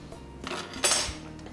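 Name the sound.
stirring fish stew in a pan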